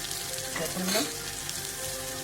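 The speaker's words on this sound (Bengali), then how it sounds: "এবার আমরা এতে পেঁয়াজ অ্যাড করে নেবো" Onion fries in hot oil with dried chillies for a spinach dish, a dense, steady sizzle close up with a brief swell of stirring in the middle and no speech.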